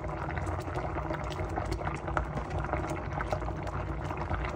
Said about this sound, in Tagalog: Pakuluin lang natin.